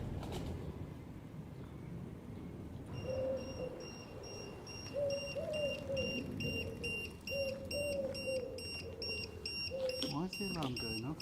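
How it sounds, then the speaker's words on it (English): An alarm on a DIY mountain-bike eBike conversion beeps in a quick repeating pattern of short, fairly faint tones over low background noise and rustling, with no talk. "Why is the alarm going off?"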